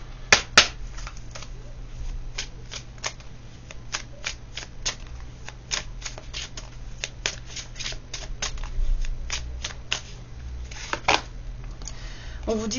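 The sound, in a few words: tarot cards being shuffled and drawn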